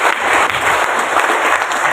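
Loud, close applause from a church prayer-group congregation at an anniversary celebration in Semarang, a dense continuous burst of many hands.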